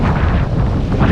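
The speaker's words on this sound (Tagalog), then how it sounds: "Lumakas na yung hangin." Strong wind buffets the microphone on a Philippine shoreline during shore casting, a steady, loud roaring rush with no voices.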